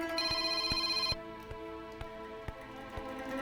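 A telephone rings with a bright electronic trill that cuts off, followed by soft regular ticking in a quiet room.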